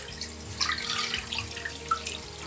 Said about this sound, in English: in a pot, I will add 1 liter of water